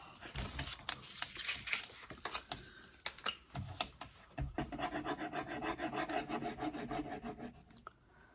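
Glue being spread onto a paper card flap, a close, quiet rasping rub of the applicator dragging back and forth across the paper in short repeated strokes.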